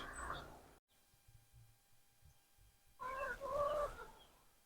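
Chickens on a homestead cluck quietly at first, then break into louder, closer clucking and squawking near the end, with soft background noise between.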